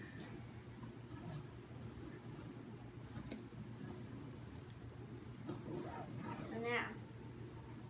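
A deck of playing cards is mixed by hand at a table, soft riffling and sliding patter at close range, fairly faint, ending in a brief buzzing flutter.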